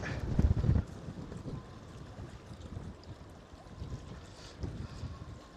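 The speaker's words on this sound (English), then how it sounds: "It's windy." Steady wind rushing over the microphone at the port of Ponta Delgada, São Miguel, Azores, with low rumbling gusts, strongest at the start and swelling again near the end, with no voices.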